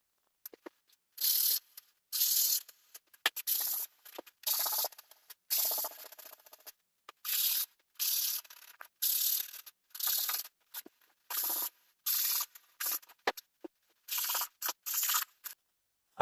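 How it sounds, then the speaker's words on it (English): Hand sanding of dried filler on wooden base molding and a door: repeated short scratchy strokes in bursts with brief pauses between them, close and fairly quiet, with no voices. "I'm going to start by sanding the filler on all the base molding and the door"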